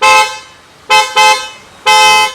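A Hella horn on a Nissan Magnite honks four times, close and loud: one short blast, then three more in quick succession with pauses between.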